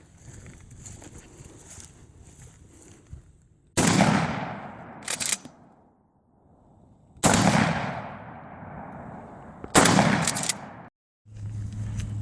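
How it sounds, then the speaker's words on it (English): A DP-12 shotgun loaded with buckshot fires outdoors at jugs and targets, two loud separate blasts, each with a fast follow-up shot and a long rolling echo, with quieter gaps between. "now we got some buckshot in there, and we're gonna blow up some mortar jugs, juice jugs, watermelons, bricks, sticks"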